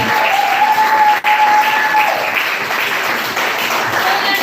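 Loud, sustained applause from a conference audience fills the whole clip, dense and steady throughout.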